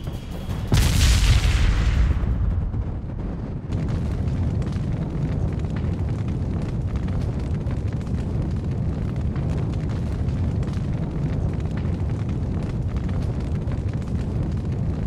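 In the video game Valkyria Revolution, a large artillery explosion bursts in with a loud blast, followed by a long, dense rumbling roar of continuous battle noise.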